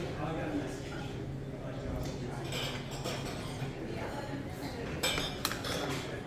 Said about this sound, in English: this is the dining room